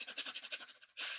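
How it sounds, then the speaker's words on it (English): Fire breath during a qigong session: rapid, forceful rhythmic panting at close range, about a dozen quick exhalations in just over a second, ending in a longer sharp rush of air. "Fire breath."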